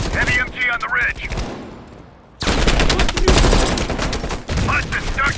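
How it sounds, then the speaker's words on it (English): Heavy machine gun fire rips through a Call of Duty: Black Ops Cold War battle in loud, sustained bursts that break off for a moment and then resume. Voices sound under the gunfire. "Watch it, heavy MG on the ridge."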